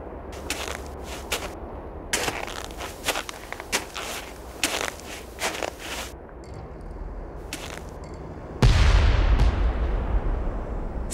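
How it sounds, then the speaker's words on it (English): Sudden loud explosion in the snowy Nancy Drew White Wolf of Icicle Creek game, a deep booming blast with lingering rumble, coming after several crunching footsteps and clicks. "Sounded like an explosion."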